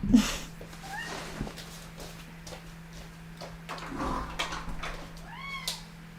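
House cat meowing indoors near a closet door, several short rising-and-falling meows spread across the moment, fairly close and moderate in loudness over a low steady hum, with a few light knocks and rustles between calls.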